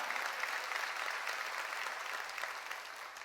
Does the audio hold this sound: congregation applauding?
yes